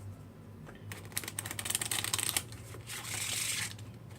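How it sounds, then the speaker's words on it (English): A deck of playing cards shuffled by hand during a simple card trick, a rapid riffle of crisp flutters followed by a softer, sustained shuffle, close and fairly loud. "so now I'm gonna give it another shuffle."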